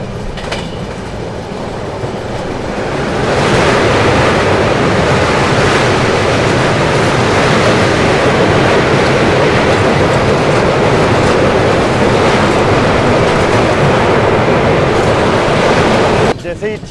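A passenger train on the Indore to Pune route, heard from inside a sleeper class coach: a loud, continuous rumble of wheels and rushing wind. It swells after a few seconds and stays steady throughout.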